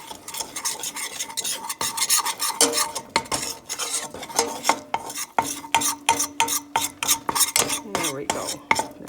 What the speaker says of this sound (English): you're going to want to stir this for about a minute